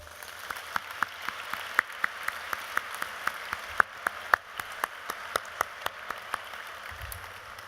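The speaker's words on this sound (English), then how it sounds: "Can we give them a round of applause?" Audience applause at the Angels in Adoption gala, fairly sparse and distinct sharp claps in an irregular patter, moderately distant, over a low room hum.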